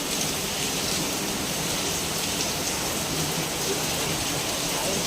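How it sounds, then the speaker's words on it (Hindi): Heavy rain pours down steadily, a dense, loud hiss of water on surfaces that stays even and unbroken from start to finish. "बहुत तेज़ से बारिश हो रही है"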